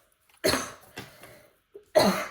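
Two harsh coughs a second and a half apart, close up, with a smaller throat sound in between.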